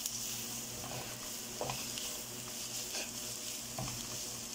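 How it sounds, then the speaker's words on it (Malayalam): Masala spices roasting and sizzling in a pan for fish chukka, a steady soft frying hiss with occasional stirring scrapes, close and alone. "ഇപ്പോൾ നമ്മുടെ നല്ലതായിട്ട് നമ്മുടെ മസാലകൾ മൂത്തു വരുന്നു"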